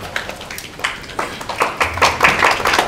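Members of parliament in the Kenyan National Assembly give a burst of clapping or table-tapping, a loose run of sharp hand strikes that swells toward the end, close and fairly loud with no talking over it.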